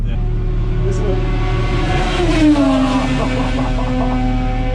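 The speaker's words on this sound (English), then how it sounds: "It's like a kit car thing, and they've got a superbike motor in it. It sounds so sick." A kit car fitted with a superbike engine races at Phillip Island circuit in the wet, its engine droning steadily with a rising then falling pitch sweep at a moderate distance, heard over constant wind and onboard rumble.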